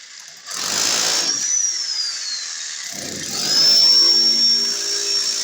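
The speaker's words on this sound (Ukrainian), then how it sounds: "Після цього ви можете далі йти і бурити собі отвір тої глибини, яка вам потрібна." A hammer drill bores a socket hole into concrete in two loud, close bursts, each cutting in abruptly and running steadily for about a second or two, separated by quieter whirring and a high whine.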